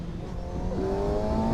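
A Kawasaki ZX6R motorcycle engine revs hard and loud nearby, its pitch climbing steadily as the throttle opens.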